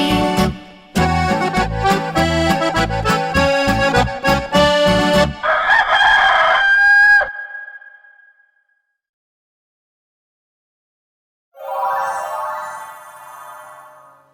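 Rooster crowing, a loud, close, strongly tonal cock-a-doodle-doo call that breaks off into silence before a second, shorter crow.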